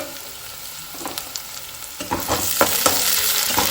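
Chili and capsicum hiss and sizzle in a hot pan, quiet at first and then louder and denser partway through, with sharp clicks and scrapes from stirring and no one speaking.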